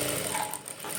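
Sewing machine stitching a fabric belt strip, a brief, steady mechanical whirr heard up close for about a second.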